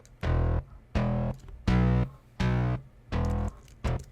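A distorted, buzzy synth bass plays six punchy, evenly spaced notes, loud and alone, each held briefly with short gaps between.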